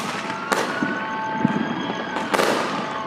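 Fireworks boom and crackle repeatedly in Los Angeles on the 4th of July, a few sharper bursts standing out over a continuous rumble of distant explosions.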